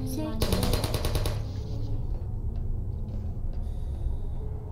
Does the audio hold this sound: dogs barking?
no